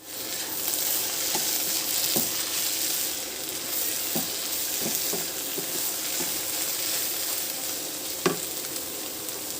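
Gajar ka halwa roasting in a pan over a medium flame, a steady bright sizzle of frying carrot with occasional soft scrapes and taps of a spoon stirring, close and continuous without any voices.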